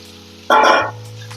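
Indian gooseberries (amla) drop into a hot pan for a pickle, setting off a loud, brief burst of sizzling that quickly settles to a quieter simmering hiss.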